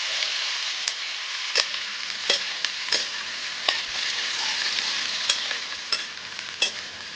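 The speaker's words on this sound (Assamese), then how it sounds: "ফ্ৰাই কৰি ল'ব মানে এইফালে কেপচিকাম আৰু পিঁয়াজখিনি ধুনীয়াকৈ।" Capsicum and onion fry in a pan for chilli chicken, with a steady sizzle and intermittent scraping stirs, close up and with no talking.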